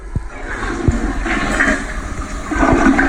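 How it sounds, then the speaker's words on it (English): A household toilet, newly installed, flushes loudly and close, with a continuous rushing gush of water draining through the bowl for the full three seconds, no voices over it. "you flush it."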